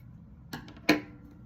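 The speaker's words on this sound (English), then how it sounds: "we're just going to chain 1 and cut our yarn" Scissors snip crochet yarn in two quick, faint, close cuts a moment apart in a quiet room.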